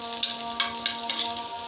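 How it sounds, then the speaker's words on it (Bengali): Vegetables for momos frying in a pan, giving a steady close sizzle with brief crackling bursts and a faint constant hum underneath, no voices. "এখন যে ভাজার ভিতরে দেখুন লাল লাল করে একটু ভাজা ভাজা হয়ে আসছে"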